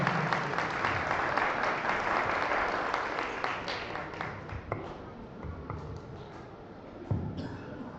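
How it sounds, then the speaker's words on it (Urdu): A church congregation applauds loudly, with dense clapping that is strongest at the start, then thins and fades, with a few sharp louder claps near the end. "اس کے خادم کے لیے زوردار تالیاں بجائیں"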